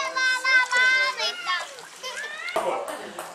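Children play with water outdoors, their high, lively voices chattering and calling close by, followed by a brief burst of splashing near the end.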